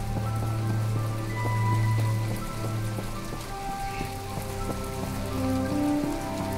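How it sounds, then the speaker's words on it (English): Steady rain pours down on surfaces in My Time at Portia, a constant even patter of drops with game music tones ringing over it, with no voices. "And on a rainy day too, that's bad."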